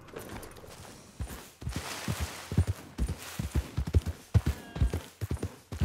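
Horse hooves clip-clop in a steady walking rhythm in Red Dead Redemption 2, with close, distinct thuds repeating throughout over faint background ambience.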